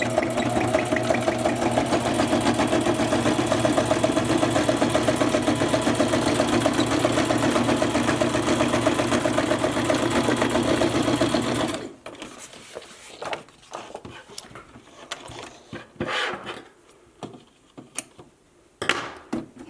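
A sewing machine stitches punched paper strips with thread, running as a steady, loud mechanical whir for about twelve seconds, then stopping and leaving faint scattered handling noises.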